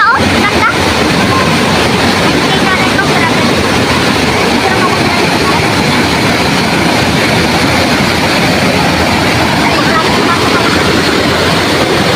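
Estrella Falls in Narra, Palawan roars as a steady, loud wash of falling water filling the whole scene, broadband and continuous throughout, with faint voices buried in the rush.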